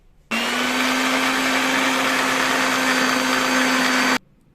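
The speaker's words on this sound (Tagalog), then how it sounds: "Una ko munang i-blender ang ginger." A blender blending ginger whirs loudly for about four seconds with a steady motor hum, starting and stopping abruptly, no voices.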